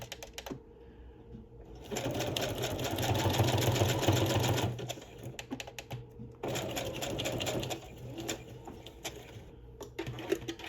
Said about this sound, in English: I'm just going to sew them